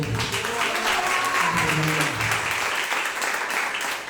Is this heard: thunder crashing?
no